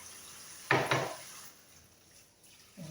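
Dishes being washed by hand with gloves on: a short burst of clattering and rubbing near 0.7–1.2 s, then quiet room noise with a faint clink at the end.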